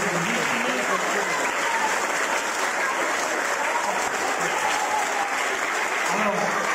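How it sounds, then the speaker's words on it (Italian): Steady, dense clapping from a group of primary school pupils fills the whole stretch, even and sustained with no pauses, like a roomful of young hands applauding. "fate un applauso ai vostri amici"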